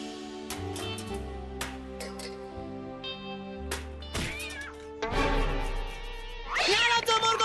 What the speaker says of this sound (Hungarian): morgó macskariadó!